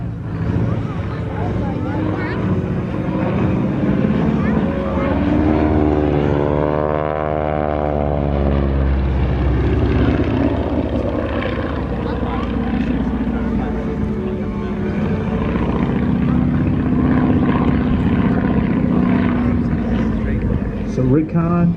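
A Stearman biplane's radial engine during aerobatics at the Flying Circus Airshow in Bealeton, Virginia, roars loudly, its pitch sweeping up and down through loops as it passes close, while a commentator speaks over it.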